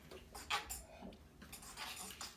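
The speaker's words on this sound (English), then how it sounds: "Let's stir it up a bit first, though. With a fork, should be good." Faint clinking of a fork against a bowl or cup while stirring a sugar mixture, a few light taps and scrapes spaced unevenly over a quiet background.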